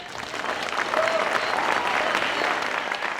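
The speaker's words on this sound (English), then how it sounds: "Let's give a big round of applause" Steady, dense audience applause fills a gathering at an African dance and drum event, a loud continuous wash of many hands clapping at once without pause.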